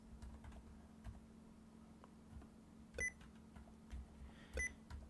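Computer keyboard typing, a light run of scattered key clicks with a few louder taps, quiet and close against a faint steady hum.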